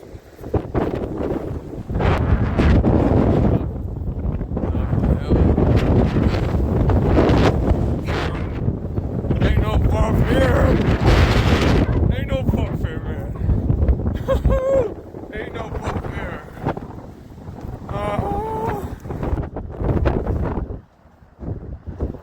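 Strong wind roars across a hilltop during a Halifax snowstorm, buffeting the microphone in loud, gusting waves. A voice is faintly heard under the blasts.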